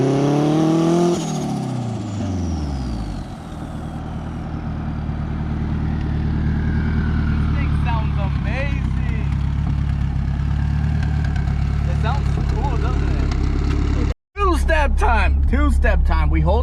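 Open-pipe exhaust on a hatchback engine idling loud and near, with an early rev that falls away into a steady, rumbling idle, a sharp momentary cutout near the end, then brief crackling blips as the throttle is touched.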